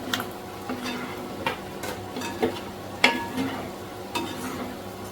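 Pork dry fry seasoned with pepper powder and garam masala being stirred in a pan, a low sizzle under repeated scraping and tapping strokes of the spoon every second or so, close and alone with no voices.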